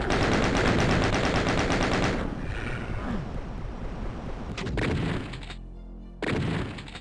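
Gunfire in the video game DOOM, a loud, rapid stream of shots for about two seconds, then dull thuds and rumbling effects with brief bursts and a sudden cut to silence before the noise returns.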